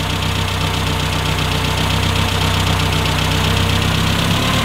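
Classic Mini engine idling steadily during carburettor tuning, a close, even mechanical hum with a slight knocking vibration and no talk.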